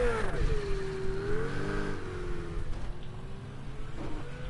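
A car engine in a racing video game revs and drones steadily at moderate volume, its pitch sliding down then holding level under a constant mechanical hum.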